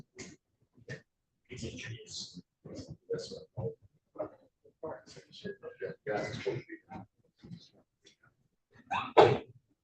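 Indoors in a meeting room, people chat quietly in short bursts, then one person lets out a single loud, sharp sneeze near the end.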